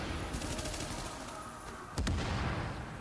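Gunfire rattles in the video game Tom Clancy's The Division, with a dense rapid burst throughout and a sharper, louder cluster of shots near the end.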